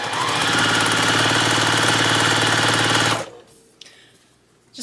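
A sewing machine runs fast and steady for about three seconds, stitching a quarter-inch seam that joins print and solid charm pack squares for a quilt, then stops, leaving a near-quiet room with a few faint clicks.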